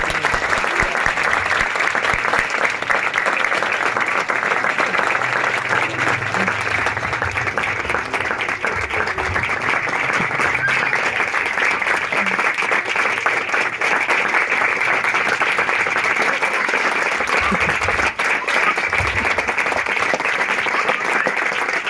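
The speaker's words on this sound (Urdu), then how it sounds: "سب تالی بجائیں۔" An audience claps at a church ordination ceremony, a dense and steady applause that holds loud and even for about twenty seconds, with faint voices underneath.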